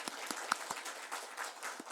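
Scattered hands clap in a Korean church service, a handful of sharp, distinct claps in a loose, uneven rhythm that soon thins into softer, blurred clapping, fairly faint, with no speech.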